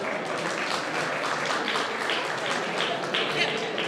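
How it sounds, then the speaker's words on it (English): An audience at a mental health awareness fundraiser applauds Prerna, giving a steady, moderately loud round of clapping with indistinct murmuring mixed in. "So round of applause,"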